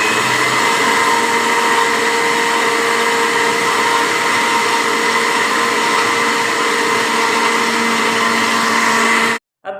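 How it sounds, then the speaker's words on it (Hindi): Kitchen blender running continuously to whip eggs and garlic for homemade mayonnaise, a loud, steady motor whine that holds for several seconds before cutting off abruptly at the end. "अब इस ब्लेंडर को हम ऑन करेंगे और 30 से 40 सेकंड तक इसको चलाएंगे"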